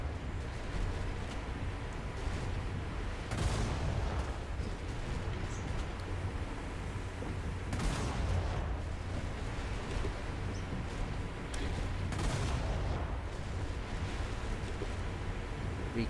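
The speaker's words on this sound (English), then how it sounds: "Very long range shots, so we're not expecting any hits, we're just going to be blind firing almost." Naval guns in War Thunder fire long-range shots, with heavy booming bursts near 3, 8 and 12 seconds rising out of a constant rumbling wash of sea and wind noise that runs throughout.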